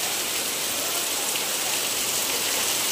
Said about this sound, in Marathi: हा बघा केवढा पाऊस पडतोय इथे